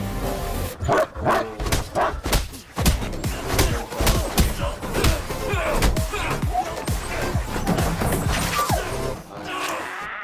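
Dogs bark repeatedly through a loud, busy action scene from the film Marco, the barking mixed with crashes and heavy score, with reacting viewers' voices audible underneath.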